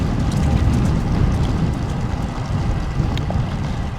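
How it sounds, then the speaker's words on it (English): A strong, chilly northwest wind buffets the microphone while cycling, a loud continuous low rumble with gusty swells and no voices. "The wind from the northwest has a chill to it."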